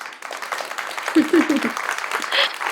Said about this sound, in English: So let's give a big round of applause to Komal Dadlani.